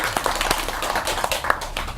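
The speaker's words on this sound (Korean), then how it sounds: "고생하신 박수 한번 보내드리고" An audience at a meeting with city police and officials gives a round of applause, a quiet and steady patter of clapping heard from some distance.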